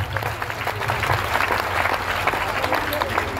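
An audience at a DXN business meeting gives the professors loud, dense, sustained applause that fills the room while a speaker talks over it.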